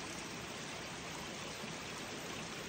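Flowing water of a natural stream, a soft, constant broadband rush with no pauses or other sounds, faint and even throughout.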